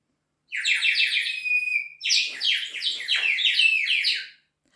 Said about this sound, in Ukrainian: де пісні співали пташки